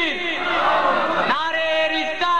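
A large crowd answers the takbir slogan at a Milad gathering, a loud sustained unison chant of many voices that swells and then drops briefly before carrying on.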